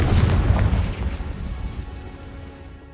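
The Confringo fire spell explodes in Hogwarts Legacy with one loud, close boom, and its deep rumble fades away over a few seconds.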